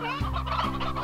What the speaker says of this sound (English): Where the hell did all these roosters come from?